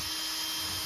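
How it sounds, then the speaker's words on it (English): A power drill bores into composite decking for a homemade screened bottom board, a steady high whine held close and loud for under a second with no pause. "when I drill this, I'm going to drill slightly upward on the bottom hole"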